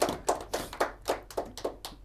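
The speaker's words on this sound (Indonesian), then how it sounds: "Boleh tepuk tangan?" A few people clap their hands in a studio setting, about eight sharp, evenly spaced claps close to the mic, each a distinct slap with brief gaps between.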